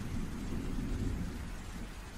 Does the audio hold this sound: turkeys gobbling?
no